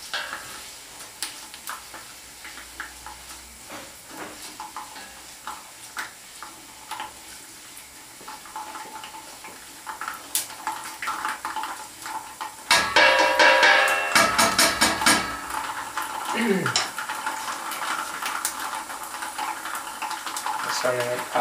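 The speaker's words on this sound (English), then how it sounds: "Just do the mixing with a wooden spoon." Rice browning in a pot is stirred with a wooden spoon while making Romanian bors soup, a soft sizzle with scraping strokes that grows louder partway through as the grains start popping.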